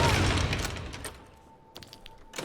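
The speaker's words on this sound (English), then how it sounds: "I heard big explosions, which means mage." Spell explosions from a mage in Skyrim, a faint cluster of booms and crackling blasts at the start that fade away, followed by a few smaller thuds.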